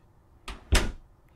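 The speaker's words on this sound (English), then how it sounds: "Then I opened the door and stepped outside." A door opens in the video game Bohemian Killing with two soft, close thuds in quick succession, the second heavier, followed by quiet.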